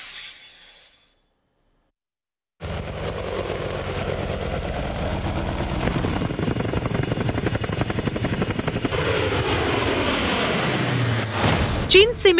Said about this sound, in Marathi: लढाऊ हेलिकॉप्टर्सचा ताफा सीमेवरती गस्त घालू लागलाय